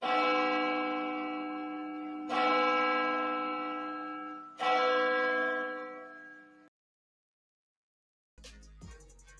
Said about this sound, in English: let's drop a church bell real quick for the lives lost in the situation.